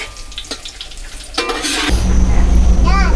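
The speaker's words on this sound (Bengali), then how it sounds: "আর গোটা গরম মশলা ফোড়নে দিচ্ছে।" Whole garam masala spices hitting hot oil over a wood fire: a few light clinks, then a sudden loud burst of sizzling that swells and stays strong, close and hissing, with a short chirp near the end.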